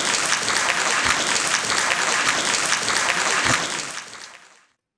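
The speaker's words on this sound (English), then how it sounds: "and clap for Arhat Chattopadhyay." A full auditorium audience applauds at a student panel event, dense steady clapping that holds for about four seconds and then tapers off to silence.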